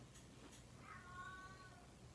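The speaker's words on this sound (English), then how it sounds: "Oh, kitty cat. Wow, do you hear her?" A cat meows once, softly and fairly close, a drawn-out vocal call in an otherwise quiet room.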